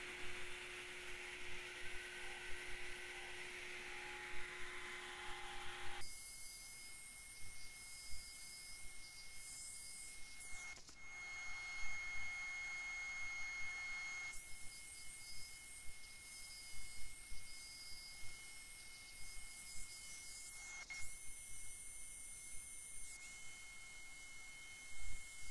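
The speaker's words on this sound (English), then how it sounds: "And I'm sanding from 60 to 320." A sanding pad works over a poplar crotch lidded vessel on the lathe, moving through grits from 60 to 320, a steady soft hiss with thin whining tones that shift in sections throughout.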